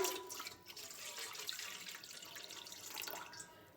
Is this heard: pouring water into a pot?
yes